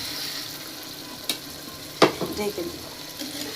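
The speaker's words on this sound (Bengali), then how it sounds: "এখন আমরা রূপচাঁদা মাছটি এটার মধ্যে দিয়ে দেব এবং কিছুক্ষণ নেড়ে দিলেই" Pieces of pomfret (rupchanda) fish being stirred into onions frying for a bhuna, a steady soft sizzle with a light scrape of the spoon and a few louder clatters partway through.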